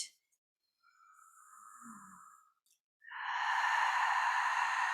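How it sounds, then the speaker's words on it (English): Audible yoga breathing during a vinyasa practice: a softer breath, then a long, strong airy exhale that sounds close and intimate in a quiet room, with no talking. "as you make your breath audible gently, use that sound to regulate that you are breathing evenly both in and"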